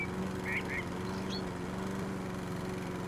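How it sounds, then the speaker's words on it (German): Steady drone of a lawn mower cutting grass in the video game House Flipper, a constant even engine hum with a couple of faint chirps above it. "Das Schöne ist ja, dass du halt die Geschwindigkeit mittlerweile erhöhen kannst beim Rasenmäher"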